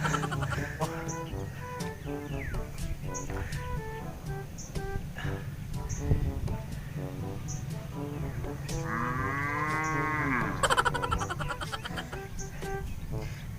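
On a rural farm with cows and carabao, a long lowing moo rises and falls partway through, against steady outdoor background noise and repeated chirps or calls.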